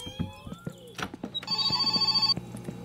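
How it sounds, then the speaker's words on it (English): A telephone rings in the video game My Summer Car, a steady electronic ring lasting about a second after scattered thumps and footsteps, loud and close. "phone call"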